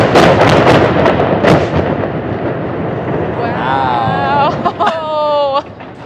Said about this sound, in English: Everyone loves an explosion.